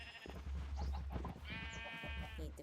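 Sheep in the modded Minecraft game RLCraft give a clear, drawn-out bleat near the end, preceded by shorter footsteps and scattered game noises over a low steady background hum.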